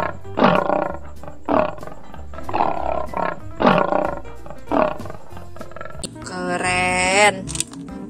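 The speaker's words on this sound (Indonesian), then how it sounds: "Ada macan harimau" A tiger in the video game Jurassic World Evolution 2 gives a series of loud, rhythmic guttural roars and grunts, about five in a row, followed by a longer, higher drawn-out roar.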